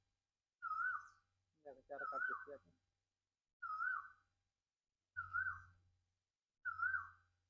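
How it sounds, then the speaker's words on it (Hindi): An Asian koel calls repeatedly near a village by a river, a clear rising whistled note sounding five times at a slow steady pace, with a brief spoken remark between the first calls. "देखिए कोयल बोल रही थी, बंद कर दी बोलना"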